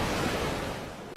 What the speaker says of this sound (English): That's just ocean sounds.